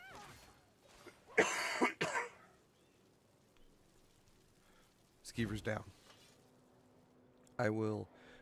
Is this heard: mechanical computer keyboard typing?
no